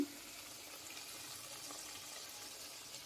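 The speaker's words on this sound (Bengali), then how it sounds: "আর একটু জল দিয়ে দিলাম" Water streams steadily into a pan of Bengali tel koi fish curry, a short continuous pouring gush heard up close with no talk.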